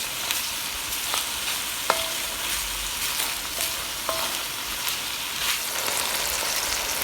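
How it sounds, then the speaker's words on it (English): A chipotle black bean soup base in a high-sided Le Creuset pan gives a steady broadband sizzle and bubble, close and continuous, with a few faint utensil clicks and no talking. "we're just going to let this cook down for about 2 to 3 minutes"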